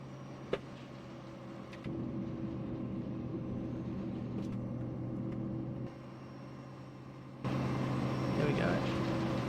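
Truck engine from the Battle Truck FMOD sound mod in American Truck Simulator, a steady deep rumbling drone that steps up louder partway through and climbs again near the end, heard alone.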